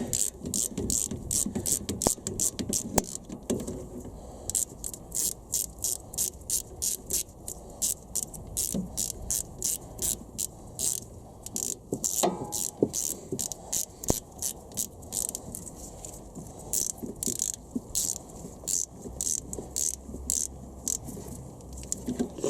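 A socket ratchet clicks steadily in fast, rhythmic bursts while tightening 12mm rear brake caliper bolts on a Honda Civic Type R K20 in a workshop. The ratcheting is close and continuous, with no talk.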